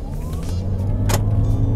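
A 2020 Toyota Corolla Cross Hybrid pulls away hard from standstill, a steady low engine and road drone building under a rising whine, with a brief hiss of passing noise partway through.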